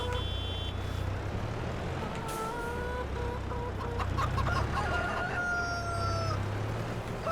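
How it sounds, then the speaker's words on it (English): A rooster crows on a farm, its calls moderately distant over a steady low engine rumble from a nearby tractor, with other chickens faintly clucking around it. "Rooster is saying good morning."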